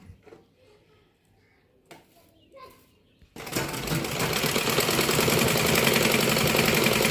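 After a few seconds of soft handling noise and faint talk, a sewing machine starts up and runs continuously and loudly along the edge of an embroidered blouse.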